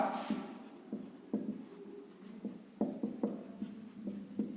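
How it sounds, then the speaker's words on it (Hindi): Chalk writing on a classroom board during a physics lecture: a string of short taps and scratchy strokes, close and fairly quiet, arriving in irregular bursts with no talk over them. "मैं एक कंडीशन लिख रहा हूं"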